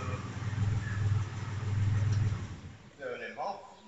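The engine of a classic Porsche idles with a low, steady rumble for a couple of seconds and then cuts off. A voice follows in the quieter stretch.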